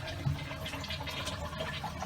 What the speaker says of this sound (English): we should, in theory, be able to flush the toilet